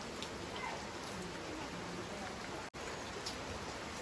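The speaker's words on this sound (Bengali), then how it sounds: "বর্ষা বাইরে ঝমঝম করে হচ্ছে" Heavy rain pours steadily outside, a dense continuous hiss with no break in intensity, heard from indoors, with no talking.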